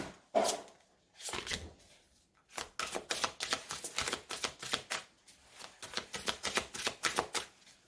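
A deck of tarot cards is cut and handled up close: soft, quiet riffling and rapid papery taps come in bunched flurries, with brief pauses between them.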